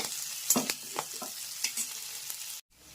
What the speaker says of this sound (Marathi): थोडंसं तूप घाला म्हणजे वाटाणा छान शिजेल.